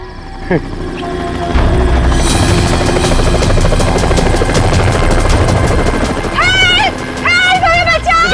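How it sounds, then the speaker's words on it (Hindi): A rescue team's helicopter approaches with a steady, loud rotor throb that builds and holds, while people talk over it and birds chirp near the end. "लगता है ये रेस्क्यू टीम का चॉपर है जो हमें बचाने के लिए आया है"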